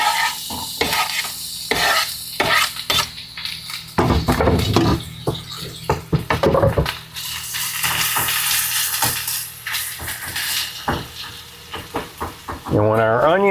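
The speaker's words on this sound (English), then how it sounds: "Now we'll do our onions." Onions sauté in a hot pan for a pork tenderloin Marsala dish, with a steady sizzle broken up by loud bursts of stirring and scraping against the pan.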